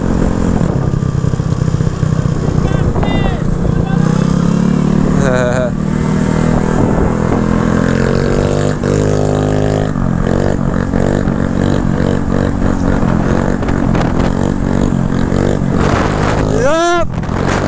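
A small 150cc GY6 scooter engine drones steadily up close while riding, with brakes rubbing slightly, rushing wind and traffic noise and a voice talking over it.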